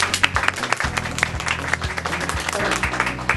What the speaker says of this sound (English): I think you guys should give yourself a round of applause there.